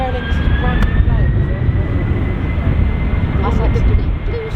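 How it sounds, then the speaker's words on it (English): A brand-new Aer Lingus jet airliner at Dublin Airport produces a loud, continuous, broadband engine roar with a steady whine, filling the whole stretch without pause. "That's one of Aer Lingus' brand new planes."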